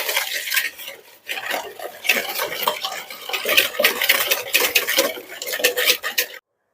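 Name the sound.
whisking eggs and sugar in a bowl until pale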